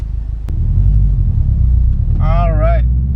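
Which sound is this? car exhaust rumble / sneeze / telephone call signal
car exhaust rumble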